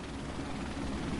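Helicopter killstreak in Call of Duty Modern Warfare, a steady low rotor drone that stays constant and fairly close throughout, with no talk.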